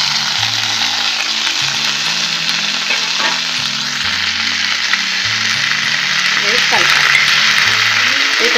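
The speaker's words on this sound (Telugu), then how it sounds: "కొంచెం ఆయిల్ వేసి దాంట్లో కరివేపాకు వేసుకోవాలి." Curry leaves fry in a little hot oil with a loud, continuous crackling sizzle that stays close and even throughout, over a low droning background.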